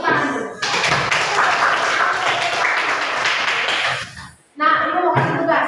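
A classroom of students claps hands in a strong, lively burst lasting several seconds, then breaks off briefly before voices and scattered sounds resume, with talk heard at the start and end.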